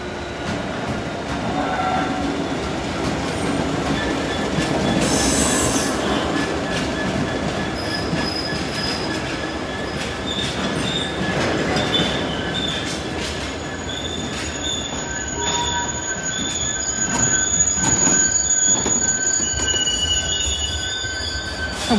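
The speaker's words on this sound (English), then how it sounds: "Here's a class 66 on fuel." A Class 66 locomotive rolling through Nottingham station, its wheels squealing loudly and continuously on the rails over a heavy rumble, with high metallic screeches rising and falling throughout.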